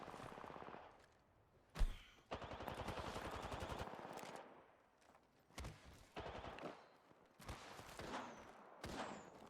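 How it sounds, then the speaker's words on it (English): Bursts of automatic gunfire in an Apex Legends battle crack out in several separate volleys, sounding somewhat distant and repeating in short rapid strings with brief pauses between them, with no talking. "since I hear fighting, I decide to third party that fight"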